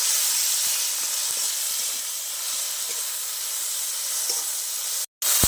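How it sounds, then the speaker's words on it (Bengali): Tomatoes with salt fry in a pan, giving a steady, fairly loud hiss and sizzle with faint scrapes of stirring, broken by a brief silence near the end. "আবার ভালো করে নেড়ে নেবো, যাতে টমেটোটা ভালো করে গলে যায়।"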